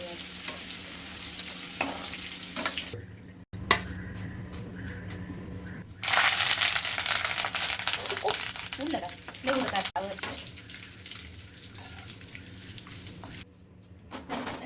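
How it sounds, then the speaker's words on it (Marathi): Garlic, green chilies and curry leaves crackle hard in hot oil in a kadhai for corn chivda, a steady loud sizzle with occasional stirring clinks and faint speech in the background. "एकदम कडक भाजायचं लसूण हिरवी मिरची कढीपत्ता असा आवाज असा आवाज आला पाहिजे"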